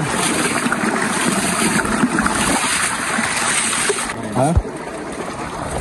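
Water is bailed out of a shallow fishing stream: a constant rushing flow with a distinct splash and slosh near the end, while voices can be heard faintly behind it.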